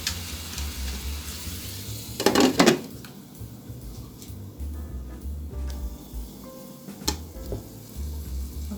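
Seasoning and tomatoes fry in oil in a covered pan for Jamaican okra and saltfish, giving a steady close sizzle with a sharp clatter of the lid and utensil knocks partway through.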